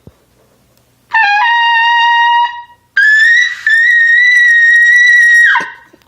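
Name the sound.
trumpet note played with about half air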